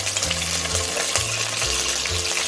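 Ginger garlic paste fries in hot onion-flavoured oil for a mutton korma, giving a loud, continuous sizzle close by with a low pulsing undertone and no speech.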